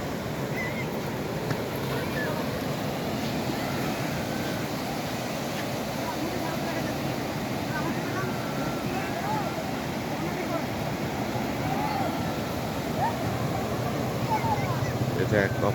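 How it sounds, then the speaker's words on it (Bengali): Sea waves wash onto Cox's Bazar beach on a morning shore, a steady broad surf roar with wind noise, moderately loud and continuous throughout. "সমুদ্রের ঢেউ আসছে"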